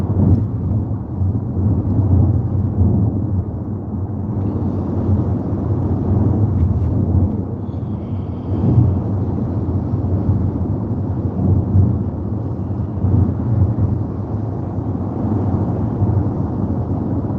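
Heavy rain with rolling thunder during a drive along I-95 in Florida, a loud, continuous low rumble and wash of rain on the car that swells and eases over many seconds, with no talk.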